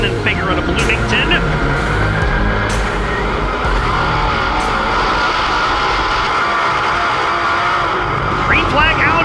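Dirt track race cars roar loudly at the start of a heat race at Fairbury, engines blaring continuously under a race announcer talking over the noise.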